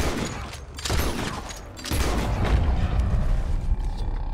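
Gunfire in the video game Red Dead Redemption II: bursts of shots and heavy booms rattle in quick succession, with a dense volley swelling loud in the second half and no voices over it.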